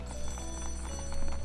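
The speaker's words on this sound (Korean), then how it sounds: "그때 전화벨이 울렸다." Telephone bell ringing in a horror audiobook sound effect, a rapid metallic trill of repeated strikes, fairly close and steady, with no voice over it.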